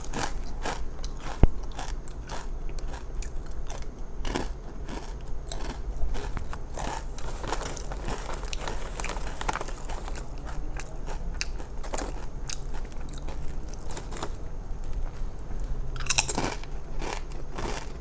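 Spicy potato chips are crunched and chewed very close up, with continuous crisp crackling and brittle bites throughout and no talking.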